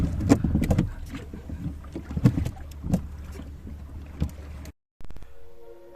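A boat moving across water to the far side, with uneven splashing and sloshing bursts against the hull and wind buffeting the microphone, cut by a brief silence near the end.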